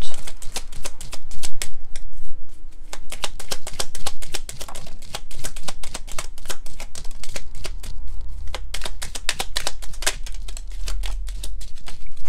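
Tarot cards are shuffled and drawn close up, giving a dense run of rapid crisp flicks and snaps that continues steadily throughout, with no talk.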